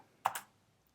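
Two quick keystrokes on a computer keyboard while entering a React project name, close and fairly quiet, with near-silence around them.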